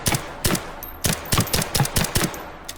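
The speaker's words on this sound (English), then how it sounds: "these actually sound more like a bullet getting stuck in a piece of wood that's actually like fixed mounted to the ground" Bullets striking a fixed wooden target in the VR shooter H3VR, a run of about ten sharp, dry thuds with snappy cracks, irregularly spaced and close, with no talk.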